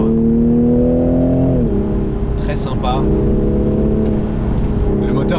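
A Toyota GR Supra 3.0 engine drones steadily while driving, with a gear change partway through, heard from inside the car under someone talking.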